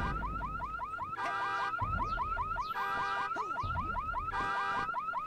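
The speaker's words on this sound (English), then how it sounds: "It's got an alarm on it." A Jeep's car alarm in the video game Psychonauts cycles through rising chirps and steady honking bursts, loud and repetitive, with no other sound over it.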